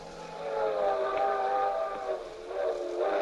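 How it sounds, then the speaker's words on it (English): A circus train travels at night in a radio drama effect, a rumbling rail clatter under a sustained, wavering whistle that swells twice. "We were on a circus train"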